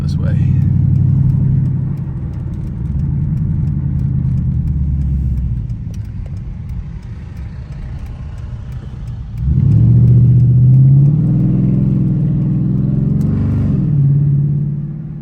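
Dodge Challenger SRT8 engine rumbling steadily from inside the car while driving, swelling into a louder rev about two-thirds through, then settling back to a deep drone.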